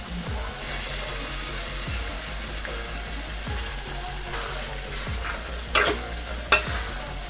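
Boiled rajma (kidney beans) goes into sizzling masala in a pan for Punjabi-style rajma curry, with a steady frying hiss, regular scraping stir strokes, and a couple of sharp utensil clinks near the end.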